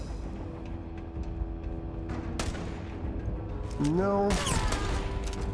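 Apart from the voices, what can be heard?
gunfire from the video game Starfield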